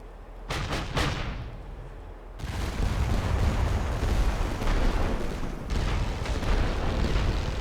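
Artillery barrage in the video game The Great War: Western Front, a heavy rumbling roar of continuous booms that starts after a few sharp reports and stays loud and dense throughout.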